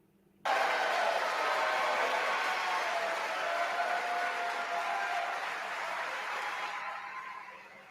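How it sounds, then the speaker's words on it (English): Applause in Congress breaks out suddenly and holds as a dense, sustained wash of clapping from a large crowd, fading slightly near the end. "Clap, clap, clap, clap."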